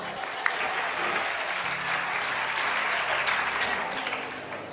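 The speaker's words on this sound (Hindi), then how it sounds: "ताली तो बजा" Listeners at a Jain sermon in Indirapuram break into clapping, a dense burst of applause from a crowd that holds steady for several seconds before easing off.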